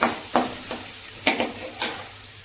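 Onion, garlic and curry leaves sautéing in oil, a steady sizzle punctuated by four or five scraping stirs of a spatula in the pan, close and moderately loud.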